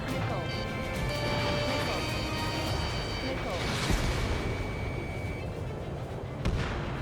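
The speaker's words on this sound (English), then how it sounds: "Target destroyed by Strider 1. Nice job! The enemy tanks are toast" Enemy tanks blown apart during a mission in the Ace Combat 7 video game, with a rolling crash and booming blast that swell and fade beneath steady in-game radio chatter and engine drone.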